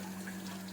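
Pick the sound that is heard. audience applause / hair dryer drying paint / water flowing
water flowing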